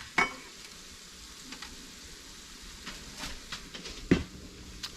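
Southern-style deer bacon burgers fry in a pan with a quiet, steady sizzle, broken by a few sharper crackles and pops.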